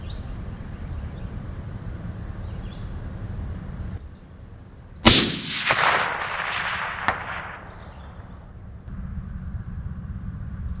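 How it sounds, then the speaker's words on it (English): A factory precision rifle fires one sharp, loud cold-bore shot at a target 540 yards off, followed by a rolling echo and a second faint crack, set against steady outdoor wind. "A cold rifle, first shot."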